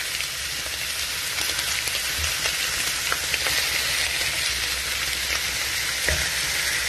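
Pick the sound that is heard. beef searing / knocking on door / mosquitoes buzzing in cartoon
beef searing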